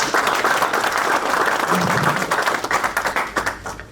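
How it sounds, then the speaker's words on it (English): Audience applause for a speaker at an economics of AI forum in Zimbabwe, dense steady clapping that fills the room and thins slightly toward the end. "Another round of applause for Professor Mutambara"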